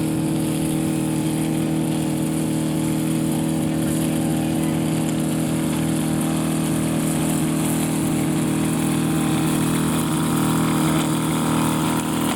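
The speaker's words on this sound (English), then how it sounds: "the guy's going past with a weed whacker" A string trimmer runs steadily nearby in an outdoor riverfront park, a continuous buzzing engine drone that stays loud and unbroken throughout, with no speech over it.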